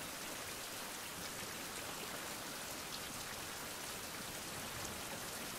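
Rainy-season rain in a survival video game, a steady, dense hiss of falling rain filling the whole stretch evenly at low level, with no voices.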